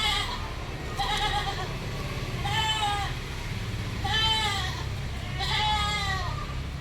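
Crossbreed goat kids bleat several times in short, wavering cries, spaced a second or so apart, over a low steady background rumble.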